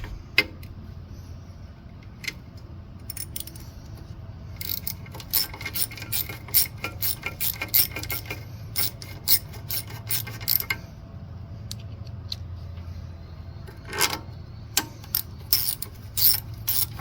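A ratchet snugs up the two 3/8 bolts on a Briggs & Stratton intake manifold, with close, crisp bursts of rapid clicking separated by short pauses over a quiet workshop background, and nobody talking.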